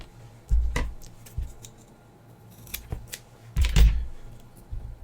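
A thin threaded metal rod for an RC crawler's suspension or steering link is snipped with cutters, giving a handful of sharp, close clicks and snaps separated by quiet pauses, with no voices.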